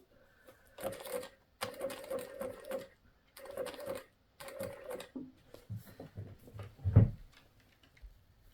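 Sewing machine stitching in short bursts, each a rapid mechanical chatter separated by pauses, fairly quiet and close, with a louder knock near the end.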